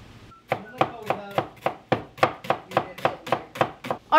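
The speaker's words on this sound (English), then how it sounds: "I went ahead and ran my knife through them again on the chopping board" A knife chops onions on a chopping board in a fast, even rhythm of about a dozen crisp, close thuds, one after another.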